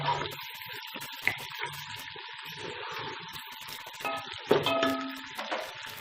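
Beef paya frying in ghee in a pot, giving a steady close sizzle with watery bubbling and a few sharper clinks and stirring knocks.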